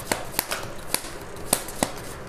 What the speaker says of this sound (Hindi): मैं तीन कार्ड्स निकालती हूँ यहाँ पे।